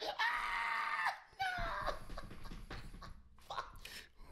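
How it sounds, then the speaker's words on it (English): Cartoon-style scream sound effect in the Tom and Jerry manner, a loud high wail that breaks off, then a second strained cry with scattered noisy bursts, close and prominent. "He used the Tom and Jerry scream."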